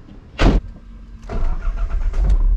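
A Nissan 300ZX sets off on a test drive after shifter work: a short loud burst, then steady engine and road rumble that builds and holds close by.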